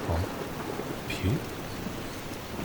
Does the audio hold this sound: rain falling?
yes